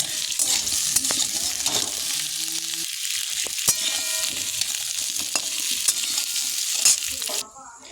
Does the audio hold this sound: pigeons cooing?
no